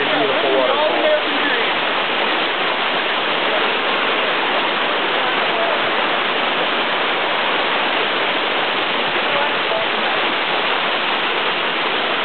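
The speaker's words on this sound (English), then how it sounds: "a really beautiful waterfall" Steady, broadband rushing water from a waterfall on a rainy day in the Adirondacks fills the whole stretch, a constant loud roar with no pauses.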